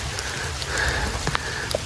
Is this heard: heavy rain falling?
yes